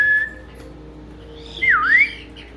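Pet birds in a bird room give a clear, close whistle with a falling then rising pitch, following a short whistled note, amid faint background chatter and no talking.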